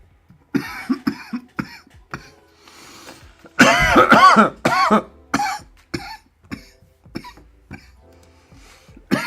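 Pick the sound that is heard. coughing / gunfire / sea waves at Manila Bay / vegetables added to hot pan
coughing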